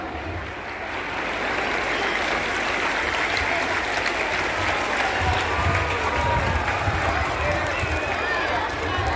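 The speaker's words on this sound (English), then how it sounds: "So give a huge round of applause to welcome her." An audience at a school investiture ceremony applauds to welcome the chief guest, with steady, dense clapping sustained throughout and a low rumble and murmur of voices underneath.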